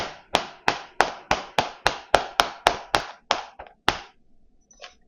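Plastic film over natto is poked repeatedly, about a dozen sharp close taps in an even rhythm, the last few faster and uneven, then a faint rustle.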